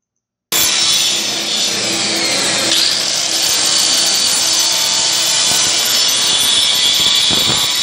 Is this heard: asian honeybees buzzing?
no